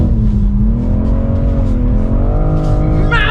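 A BMW M440i drifts with its engine droning loudly at high revs, pitch rising and falling, while tires squeal near the end; close and continuous, with a voice partly over it.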